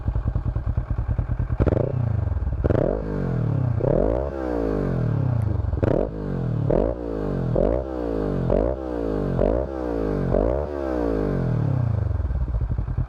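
A Kawasaki ER6N motorcycle engine revs hard again and again, up to 8000 rpm, about ten sharp throttle blips rising and falling in a steady rhythm, loud and close, with no talking.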